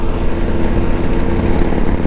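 A Yamaha XT1200 Tenere motorcycle engine drones steadily while riding, with loud, close, continuous low throbbing and wind rush and no break.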